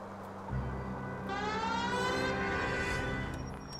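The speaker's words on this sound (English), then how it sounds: "Sirens." A police car siren in the video game L.A. Noire wails, rising and falling over a low engine rumble, steady and fairly close throughout.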